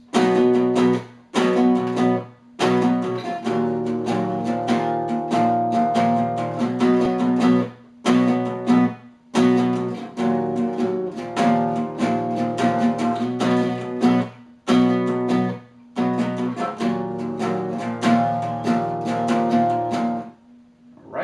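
Electric guitar strums a repeated chord riff, played three times through in steady rhythmic bursts with brief gaps between phrases, close and clear with no talking.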